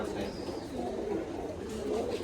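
Imported UAE racing pigeons cooing nearby, soft low throaty coos blending into a continuous murmur over the short stretch.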